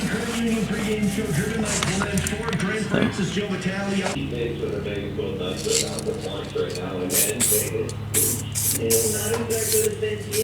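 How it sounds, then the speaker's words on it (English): Clear coat from an expensive aerosol rattle can hisses out in repeated short spray bursts, close by, over a steady low background hum. "So now I've got this clear here, pretty expensive rattle can clear coat."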